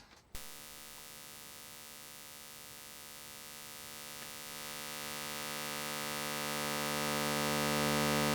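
An Arturia MicroBrute synth tone through its high-pass filter switches on abruptly and holds as a steady, buzzy drone, its bright upper harmonics gradually swelling louder over several seconds.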